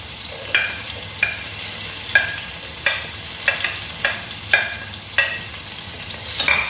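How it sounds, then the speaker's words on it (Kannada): Onions frying in a pan with mustard seeds and curry leaves: a steady, close sizzle, with about eight sharp spatula scrapes at a regular stirring rhythm. "ಈರುಳ್ಳಿ ಸೇರಿಸಿ ಫ್ರೈ ಮಾಡ್ತಿದ್ದೇನೆ"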